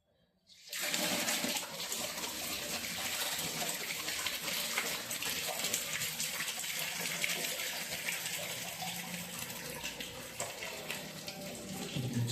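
Hot water gushing steadily from an electric geyser outlet, a dense continuous hiss that starts abruptly after a brief pause and runs on evenly at close range.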